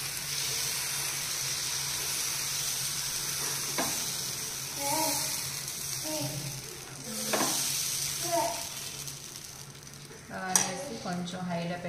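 Pesara dosa batter sizzles on a hot pan with a steady, close frying hiss, joined by occasional scraping and stirring clinks and a sharp knock near the end.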